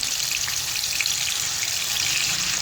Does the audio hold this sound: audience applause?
no